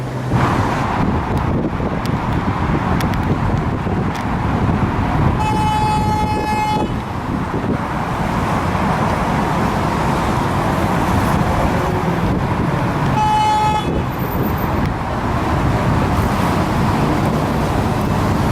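MTA Q85 bus bound for Green Acres in Eastern Queens, with steady roadway rumble and passing traffic, plus two short tonal horn toots a few seconds apart over the continuous street noise.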